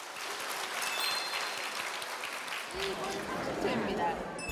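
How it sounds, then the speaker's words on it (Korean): Applause from participants opening a civic roundtable discussion, a broad sustained patter of many hands, fairly loud and steady throughout, with some murmured voices mixed in beneath. "여러분의 뜨거운 박수와 함께 시작하겠습니다."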